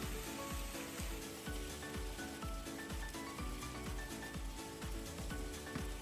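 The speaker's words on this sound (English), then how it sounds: "Once the meat is heated, add the butter and continue sauteing." Pork and butter sizzle steadily in a hot pan for a Japanese croquette filling, a continuous crackling fry with repeated soft scraping strokes of stirring, fairly faint and with no talking.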